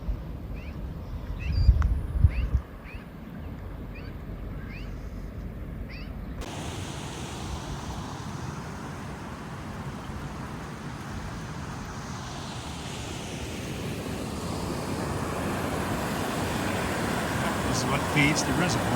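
Water flowing into a reservoir outdoors, a broad steady rushing wash that grows slightly louder over time, following a brief stretch with birds chirping and a few knocks at the start.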